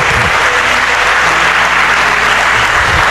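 Loud, dense applause from a church congregation honoring Félixon, steady clapping filling the whole moment without pause.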